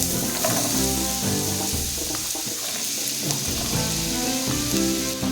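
Chopped potatoes for a Kerala potato mezhukkupuratti fry and sizzle steadily in hot oil in a pan, with intermittent scraping as they are stirred, close and continuous.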